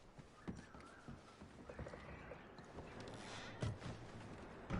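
Horse in the video game Red Dead Redemption 2: faint hoof clops and shifting movement blend into a steady outdoor background, with a brief louder stir near the end.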